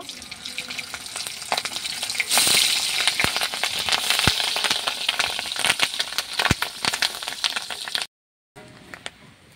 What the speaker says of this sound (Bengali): এবার এই সেদ্ধ করা ডিমের পিসগুলো ভেজে নেব।